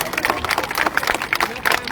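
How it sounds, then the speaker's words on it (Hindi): A crowd at a political rally breaks into dense, rapid clapping, a steady patter of many hands close by with a murmur of voices mixed in. "एक बार ताली बजाओ उस नरेंद्र मोदी"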